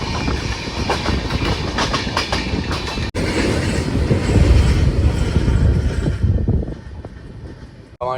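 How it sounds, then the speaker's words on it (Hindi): A passenger train pulls into Daurala railway station in rural India, giving a loud, continuous rumble with clickety-clack wheel rhythm, hissing and a brief squeal near the end. "हमारी ट्रेन पहुंच चुकी है अब दोराला।"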